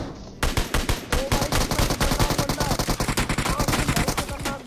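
Loud, rapid automatic gunfire from PUBG Mobile gameplay, dense bursts of shots firing almost continuously after a short quiet start.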